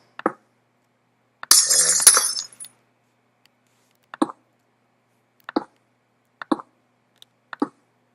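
Glass window blocks placed one after another in Minecraft while building a black modern house: a burst of shattering glass is followed by several short, clean clicks and clinks, evenly spaced, with no talk.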